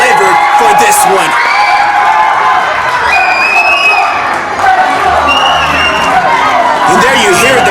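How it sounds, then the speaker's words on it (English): A wrestling event crowd in a large venue cheers, whoops and applauds in a loud, sustained roar with high shouts rising above it, while a voice talks over it. "there you hear the crowd there appreciating all the wrestlers"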